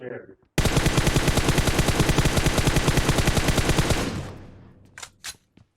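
A long, loud automatic burst of rapid gunfire in PUBG Mobile rattles at an even rhythm for about three and a half seconds, then cuts off, followed by a couple of fainter sounds.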